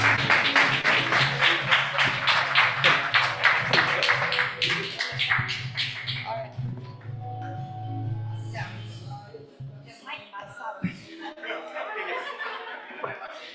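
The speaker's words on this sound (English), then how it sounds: "give her a round of applause, guys, to Dr. Vidya" An audience at an oral health talk claps in applause for about six seconds, dense and close, mixed with chuckles and voices, then fades into scattered talk and movement.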